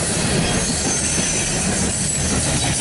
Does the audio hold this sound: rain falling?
no